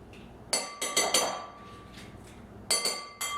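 A spoon scooping pre-cut avocado chunks out of the skin, heard as several sharp clinks and scrapes in two short bursts, close and fairly loud, with no talking.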